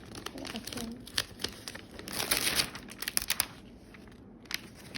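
A paper calendar from a K-pop magazine is opened and handled, giving soft crinkling and rustling with several sharper paper crackles, close and moderately loud, while a person talks throughout.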